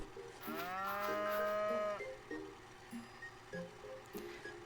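A cow in the Harvest Moon farming game moos once, a long drawn-out low call lasting over a second, followed by soft, quieter game background sounds.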